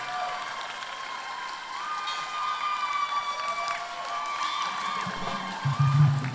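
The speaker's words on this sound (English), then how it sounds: "Can we clap our hands as she comes forward?" A church congregation claps and cheers continuously during a praise concert service, a dense wash of applause with whoops and shouts rising toward the end.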